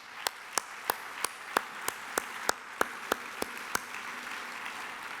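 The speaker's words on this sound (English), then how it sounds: "Let's give them a round of applause for an amazing evening." At an environmental awards banquet, a single person claps in a slow, regular rhythm, about a dozen sharp claps over a faint room-wide applause that tapers off.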